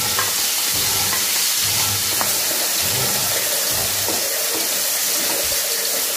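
Loud, continuous sizzling of fish innards stir-frying in a hot pan, with occasional stirring scrapes underneath, close and steady throughout.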